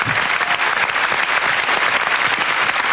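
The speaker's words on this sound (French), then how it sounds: "On applaudit à la fois la parolière, le compositeur et l'interprète." Dense, loud applause from a television studio audience for a songwriter, composer and singer, many hands clapping continuously throughout.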